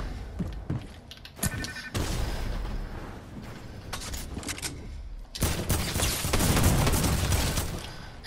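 AR rifle in a shooter video game, bursts of rapid gunfire with sharp cracks and thuds, loud and dense, broken by short pauses.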